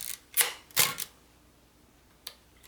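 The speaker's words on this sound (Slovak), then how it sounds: "uzávierka funguje" A Zenit 12XP film camera fitted with a Helios 44M-4 lens releases its shutter with two sharp mechanical clacks close together, then a faint click a moment later, all near and alone in a quiet room.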